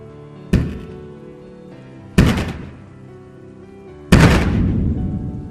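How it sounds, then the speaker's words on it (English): Three loud, heavy thudding knocks on a door, spaced about two seconds apart, each a sharp booming hit that rings briefly and fades. "the thudding sound of the knock was so loud"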